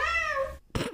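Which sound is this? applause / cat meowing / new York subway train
cat meowing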